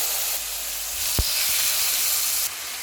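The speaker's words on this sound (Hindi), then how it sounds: "ऑयल गर्म हो गया, इसमें कबाब रख देंगे।" Bihari kababs sizzling as they go into hot oil in a pan: a loud, steady frying hiss from start to finish, with a sharp thump as a kabab lands and a brief change in the sizzle near the end.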